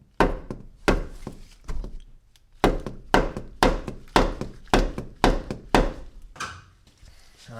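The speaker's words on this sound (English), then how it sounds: "we'll bring out the rubber mallet and we're gonna hit this bolt that's coming out," A rubber mallet pounds a control arm bolt on an Audi B5 S4, a series of about a dozen loud, dull thunks in a steady rhythm, close up with no talking.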